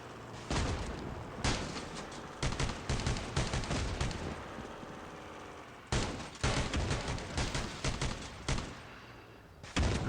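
Rapid bursts of turret gunfire from a game vehicle, loud and sustained, with dense volleys broken by brief pauses, then resuming in heavy, close fusillades.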